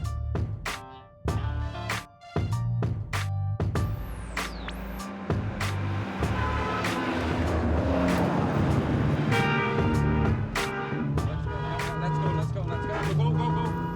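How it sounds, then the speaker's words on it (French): An Austin Healey's inline four-cylinder engine at the Tour Auto 2007 rally revs and pops in sharp bursts, then settles into a loud, continuous roar up close, with a narrator speaking over it. "la fameuse Austin Healey et son 4 cylindres en ligne aux origines plutôt plébéiennes"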